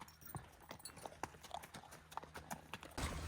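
Hooves of a horse clip-clop on the ground in an uneven walking rhythm, close and fairly quiet, with no voices.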